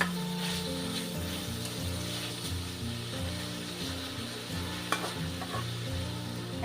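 Sliced carrots stirred as they fry in a pan, a steady sizzle under repeated scraping strokes of a utensil, close and continuous, with a brief knock near the end.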